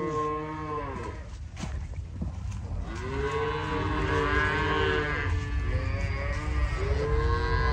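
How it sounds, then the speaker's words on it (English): Calves bawl repeatedly during cattle sorting on a ranch, several long, loud moos overlapping one another close by over a constant low rumble of engine or wind noise, with no talking. "You can hear some calves bawling."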